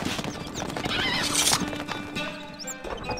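Horse in the Stronghold Crusader strategy game neighs loudly while hooves clip-clop rapidly underneath, all set against busy game music and effects, with a whinny peaking midway.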